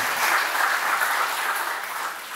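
An audience applauds at a book launch panel in Côte d'Ivoire, a dense, steady wash of many hands clapping together that stays loud and even throughout, with no voices heard.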